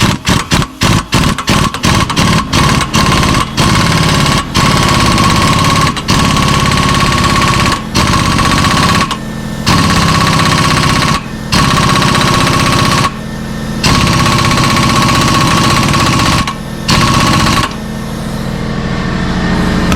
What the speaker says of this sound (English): I got a 19 mil socket on here with the impact.